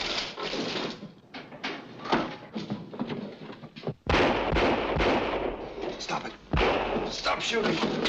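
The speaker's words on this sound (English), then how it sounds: "Stop shooting." Gunshots ring out in a 1940 black-and-white film, several sharp heavy bangs scattered through a busy, noisy old soundtrack, with a few louder blasts and people talking in between.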